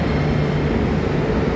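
A train at Southern Cross station in Melbourne gives off a steady, loud low rumble in a short, continuous burst with no voices.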